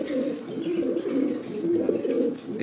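Jan Aarden racing pigeons coo steadily at close range, low throaty warbling calls repeating and overlapping through the whole stretch with no speech.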